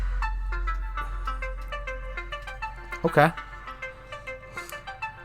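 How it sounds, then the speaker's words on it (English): Ringtone of an incoming phone call chiming in a repeating melodic pattern, with someone talking and laughing over it during a casual podcast recording. "You're getting a call, really, to start the podcast?"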